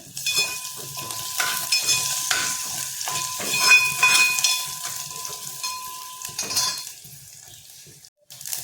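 Garlic fries in hot oil with asafoetida in a home kitchen, a soft sizzle broken by repeated metallic scrapes and clinks of a spoon against the pan, fading near the end.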